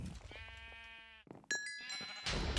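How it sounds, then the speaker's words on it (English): Bleating sheep from the Minecraft Hypixel Sheep Wars game, a few harmonic bleats in quick succession, one long and several shorter, close and clear with game noise between. "Oh, I got knocked off the map by 5 homing sheep"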